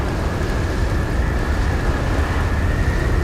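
Steady rain in Outer Wilds, a dense continuous hiss of falling drops over a low rumbling bed, loud and unbroken throughout with no voices.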